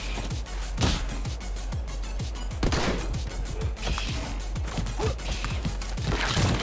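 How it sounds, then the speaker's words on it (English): Repeated gunfire and bursting head-explosion impacts from the action game Madness: Project Nexus, a rapid stream of sharp cracks and thumps with crashing hits over a busy, dense game soundscape. "There it is, there's the head explosion"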